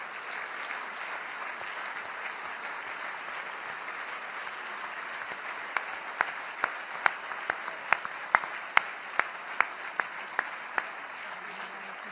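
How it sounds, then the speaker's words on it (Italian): Sustained crowd applause at an Italian regional election campaign launch, a dense wash of clapping punctuated in its second half by a run of sharp, louder individual claps close by. "Facciamogli un grande applauso."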